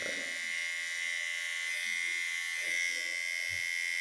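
Enchen Boost Black electric hair clipper running steadily, a continuous close buzzing hum with a bright whining edge and faint low rustles underneath.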